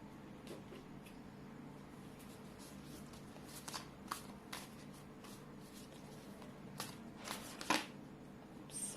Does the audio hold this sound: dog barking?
no